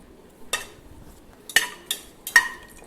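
A spoon stirs whole spices (star anise, cinnamon, cardamom and fennel) frying in oil in a pressure cooker, giving four sharp metallic clinks against the pot over a faint, quiet background.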